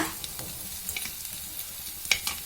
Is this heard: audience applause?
no